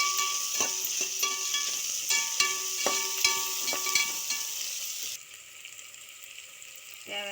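Onions sauté in oil in a pan for mutton biryani, giving a steady close sizzle with scattered crackles and pops that drops to a quieter fry near the end.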